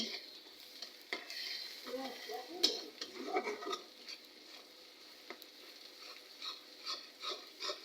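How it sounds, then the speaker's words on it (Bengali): Shrimp, tomato and onion stir-fried in oil in a pot over a village clay stove, with soft sizzling and repeated scraping, stirring strokes of a spoon, fairly quiet and close. "চিংড়ি মাছ দিলাম টমেটো দিই দিকটা দেখুন তেল পেঁয়াজ দিয়ে নাড়াচাড়া করছি"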